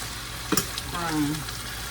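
Pork chops sizzle and crackle in hot grease in a pan nearby, with a brief stirring scrape and a soft pop partway through.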